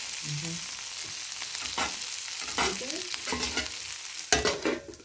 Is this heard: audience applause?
no